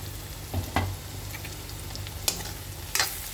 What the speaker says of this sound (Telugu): మనం అంత మధ్యలో కలుపుతూ ఉండాలి కలుపుకుంటే దొండకాయ అనేది మంచిగా ఫ్రై అవుతుంది